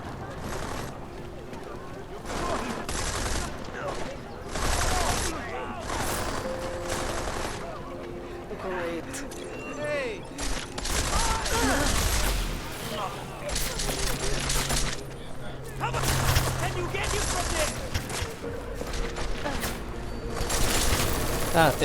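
Repeated bursts of gunfire in Deus Ex: Mankind Divided, dense crackling volleys coming and going over a noisy game soundscape, with a voice speaking intermittently among the shots.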